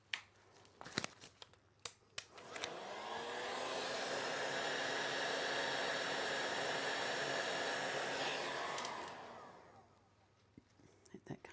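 An air blower pushes wet paint across a surface in a steady, close whoosh of rushing air that swells, holds for several seconds and then fades, with a few clicks and light handling noises before and after.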